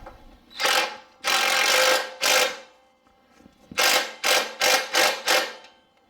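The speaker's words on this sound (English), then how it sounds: "we have to tighten up your brake drum bolt, which is a 13" A ratchet tightening a 13 brake drum bolt on a Coleman CT200U-EX mini bike, close and loud, with three longer clicking runs followed by five short rhythmic bursts.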